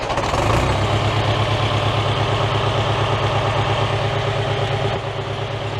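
David Brown 990 tractor engine running steadily while the hydraulic linkage is raised, a loud, even diesel drone whose pitch dips slightly near the end.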